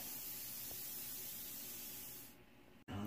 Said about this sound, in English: I'm holding the piece with one hand and I'm just kind of casually airbrushing with the other.